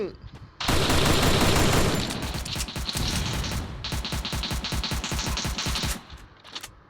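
Rapid video game gunfire: a dense sustained burst followed by a run of sharp, evenly spaced shots, loud and close, with faint voices underneath.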